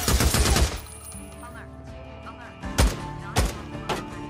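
Gunfire in the video game Days Gone: a rapid burst of shots opens the clip, followed by a few heavier single shots later over a low game soundtrack.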